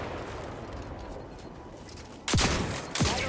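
Gunfire in the video game The Outer Worlds 2 arrives late, as two sudden loud bursts of shots with sweeping, falling tones, after a stretch of muffled, rumbling ambience.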